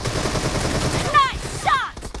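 Rapid bursts of automatic gunfire in a PUBG Mobile team deathmatch, dense crackling shots running throughout with a couple of ringing synthetic game effects layered over the top, fairly close and loud.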